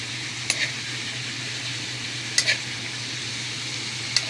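Food sautés in a pan with a steady, even sizzle. A utensil scrapes and clinks against the pan three times, close by and without talking.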